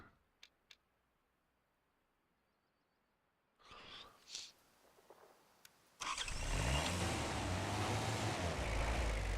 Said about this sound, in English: Car still sounds so loud.